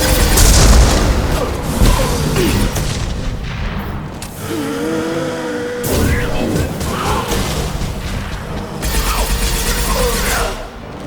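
High-pressure canisters blow up in Mass Effect 2 Legendary Edition: heavy booms and crashing bursts come in several waves with rumbling debris between them, and a voice is briefly heard.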